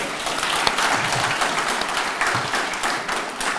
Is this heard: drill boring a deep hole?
no